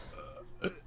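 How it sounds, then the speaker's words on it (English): A woman burps once, short and close into a microphone, a brief throaty rasp after a quiet moment. "Try to burp."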